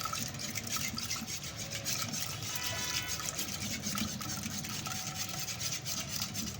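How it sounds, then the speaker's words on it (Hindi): Steady rubbing and scraping of a whisk in a bowl as water is poured into chaach, a buttermilk drink, a soft continuous swishing close by. "अब हम इसमें आहिस्ते आहिस्ते पानी भी शामिल करते जाएंगे।"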